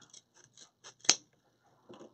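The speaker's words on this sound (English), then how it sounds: "I'm just going to cut that to get kind of a fresh edge there" Scissors trimming pink deco mesh ribbon for an Easter truck wreath, heard as a few faint close snips and rustles leading to one sharper, louder cut in the middle, then a soft rustle.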